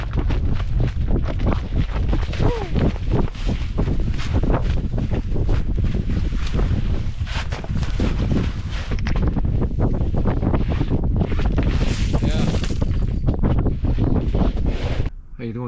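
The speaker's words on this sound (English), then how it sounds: "I think the wind's just coming from there" Strong wind at a winter ice-fishing camp in the Boundary Waters buffets the microphone with loud, continuous roaring gusts close up, and a voice is faintly heard beneath it.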